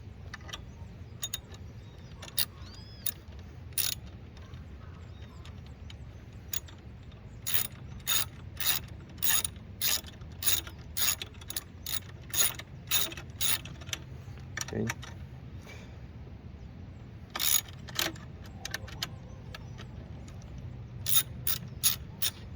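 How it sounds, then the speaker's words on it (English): A 10mm socket wrench ratchets in bursts of sharp, rapid clicks, some runs quick and others spaced out, close up against a quiet low background hum. "For that, we're going to use again our 10mm socket wrench."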